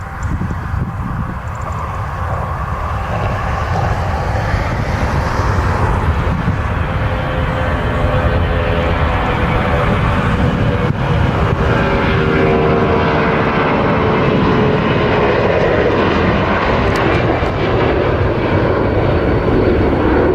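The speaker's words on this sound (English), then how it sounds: "Conviasa Airbus A340-200 seems to struggle to climb after takeoff." A Conviasa Airbus A340-200 airliner climbs after takeoff, its jet engines giving a loud, steady, sustained roar throughout.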